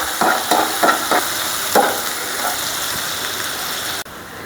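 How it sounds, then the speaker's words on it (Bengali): Chopped garlic frying lightly in a pan, a steady close sizzle with a few sharp crackles and pops early on and no talking. "এই যে আমি একটু হালকা ভেজে নেব রসুনটা।"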